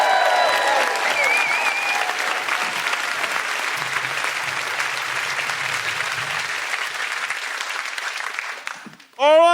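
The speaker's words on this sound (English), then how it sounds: "Please give a big round of applause from Australia." A comedy audience at a live comedy show in Edinburgh claps and cheers in sustained, dense applause that fades out, with a voice rising at the end.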